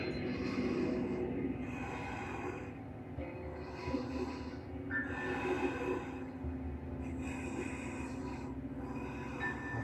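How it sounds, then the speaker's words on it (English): Michael Myers breathes heavily in the Halloween video game: slow, raspy inhales and exhales repeat in a steady rhythm, close and low over a quiet background hum. "Do I just keep listening to him breathe"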